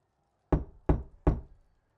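Three firm knocks on a door, evenly spaced about 0.4 seconds apart, close and loud with no talking.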